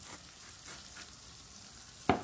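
Eggs scrambling in a non-stick frying pan give a faint, steady sizzle, ending in one sharp clack of a utensil against the pan.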